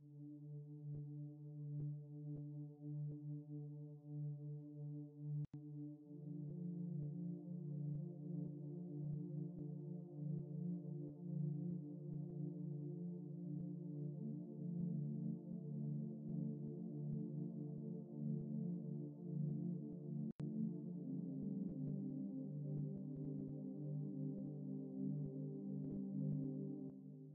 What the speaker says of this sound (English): for the intro, I started with writing a simple saw pad